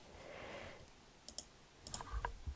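Several quick keyboard clicks while text is typed into graphic design software, sparse taps in two short bursts over a soft background hiss.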